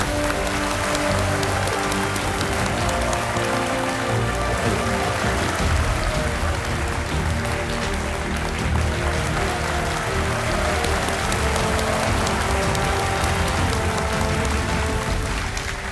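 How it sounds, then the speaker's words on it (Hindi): Studio audience at the KBC game show applauds a contestant with loud, dense, steady clapping that holds for the whole stretch without pause, under faint background music. "जोरदार तालियों के साथ स्वागत किया जाए सांत्वना मंजू जी का"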